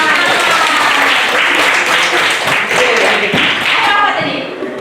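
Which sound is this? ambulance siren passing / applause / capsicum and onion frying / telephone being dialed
applause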